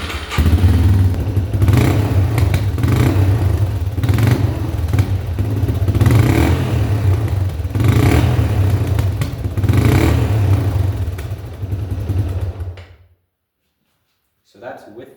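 A dirt bike engine with its exhaust baffle in revs loudly and close by in repeated rising surges for about thirteen seconds, then cuts off abruptly into near silence.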